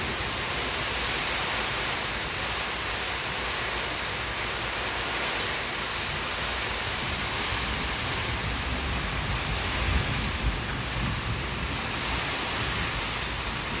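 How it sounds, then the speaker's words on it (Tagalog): Heavy rain pouring steadily during Typhoon Basyang, a dense unbroken roar of rainfall and wind with a low rumble of thunder swelling briefly near the end. "Kumukulog-kulog."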